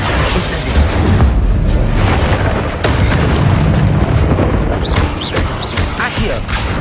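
Fiery Incendio spell blasts in Hogwarts Legacy combat, a loud, dense stretch of booming, crackling bursts with repeated impacts over continuous rumbling battle noise, with a few brief voice shouts mixed in.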